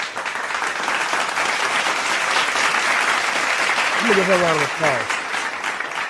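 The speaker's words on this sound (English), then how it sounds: "I'm gonna give her a round of applause." A burst of clapping hands fills the space for several seconds, steady and fairly loud, with a voice briefly calling out near the end.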